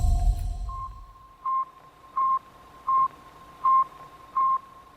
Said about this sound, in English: That's the sound of the Sputnik satellite.